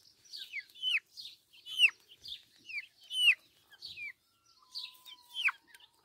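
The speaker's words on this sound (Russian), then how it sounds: "Цыплята брамы темной." Dark Brahma chicks peeping and cheeping in a brooder, a steady run of shrill, close calls in quick bursts, with no talking.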